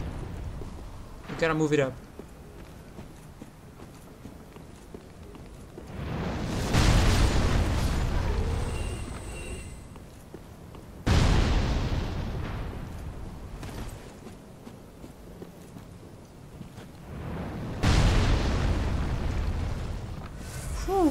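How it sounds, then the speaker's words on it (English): Artillery blasts in Dark Souls III: three heavy, rumbling booms a few seconds apart, each loud and drawn out as it decays, with someone talking between them. "Fucking artillery support."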